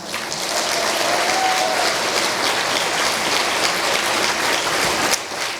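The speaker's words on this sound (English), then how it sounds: "But just one more round of applause for Martha." A dense, sustained round of applause from an audience after a speech at a Montana history event fills the room. The clapping is steady and loud throughout, then briefly dips near the end.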